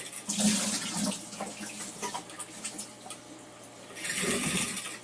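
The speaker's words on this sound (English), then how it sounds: "Oh, I'm gonna dump the water out." Water poured and splashing out of an RODI filter housing during maintenance, a few irregular sloshing bursts with a louder gush near the end, close by.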